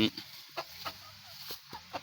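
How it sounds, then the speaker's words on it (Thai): Several short, soft clucks from fighting-breed chickens being fed, scattered across a couple of seconds, fairly quiet, with faint low background noise and no talking. "ไก่ของคุณพ่อนะครับ เพิ่นกะกำลังให้อาหารนะครับ"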